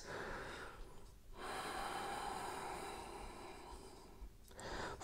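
During a power yoga forward fold, slow, audible breaths sound close to the microphone as long airy exhales and inhales separated by short pauses, with no speech.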